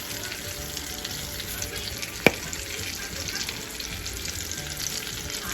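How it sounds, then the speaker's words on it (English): Cayenne- and lemon-pepper-seasoned fish simmers in a pan with a steady, soft sizzle, broken once by a single sharp click. "And just let that simmer for a little bit longer"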